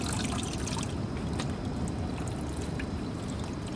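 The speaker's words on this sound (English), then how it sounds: "it just kind of sprays and trickles into the water" A small pump in a container pond sprays and trickles into the water, a steady close hiss of falling droplets and gentle splashing with no breaks.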